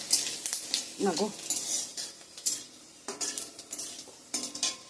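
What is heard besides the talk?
panch phoron spices and dried chilli sizzling in hot oil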